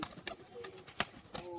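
A male Bazi (tumbler) pigeon gives soft, low coos in short separate bursts, close but quiet, against a faint background hum with no talking.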